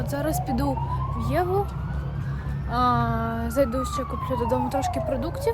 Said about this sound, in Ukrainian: звуки якихось непонятних сирен.